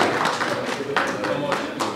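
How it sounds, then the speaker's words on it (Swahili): A live concert audience claps in scattered bursts under a voice talking over it, the applause moderately loud and uneven rather than a full ovation. "Tupige makofi kidogo."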